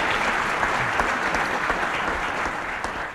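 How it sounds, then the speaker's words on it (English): Dense, sustained applause from an audience at a governor's broadband program announcement, a loud, even wash of many hands clapping throughout with no pauses or speech. "Let's give him a round of applause."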